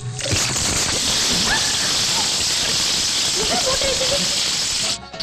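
Rain falls steadily onto a rooftop terrace in a comedy film scene, a dense, loud, continuous hiss that runs the whole time and cuts out at the end, with voices briefly calling out over it.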